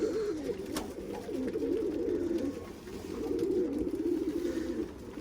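Domestic pigeons coo in soft, rolling low calls that repeat steadily at close range, with a faint background hiss and a brief sharp sound near the start.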